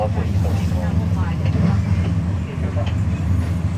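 Laos China Railway passenger train pulling out of Kasi station, a continuous low rumble and rolling hum from inside the carriage, with voices talking over it.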